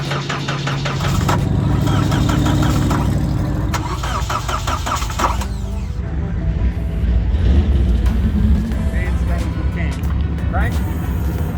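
A Lexus IS200 cranks slowly for about a second, then catches and revs loudly before settling into a rough, loud idle at a drag strip, with people talking over it.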